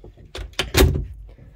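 Solid wood pocket door in a Country Coach Intrigue motorhome, giving a few close knocks and a sliding rumble that builds to a firmer thump before settling, with no talking.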